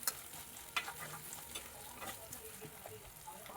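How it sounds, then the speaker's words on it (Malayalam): Chopped shallots and green chillies sauté in a pan for a Kerala fish curry, a soft continuous sizzle broken by light stirring scrapes and a few clinks, heard close and fairly quiet. "അത് ഒരു 2 മിനിറ്റ് നേരം ഒന്ന് അതിലിട്ട് വഴറ്റാം."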